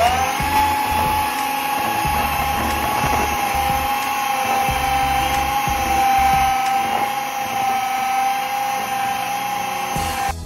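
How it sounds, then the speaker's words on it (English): An electric beater whirs steadily while mixing cake batter for a coconut macaroon cake, a loud, constant motor whine with a faint rhythmic churn beneath it, holding for the whole stretch. "Now we mix it well with the help of electric beater."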